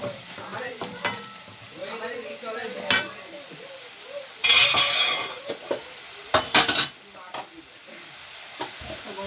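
Rohu fish frying with salt in a pan, a steady close sizzle with occasional clinks and stirring scrapes, two louder bursts of crackling spitting partway through.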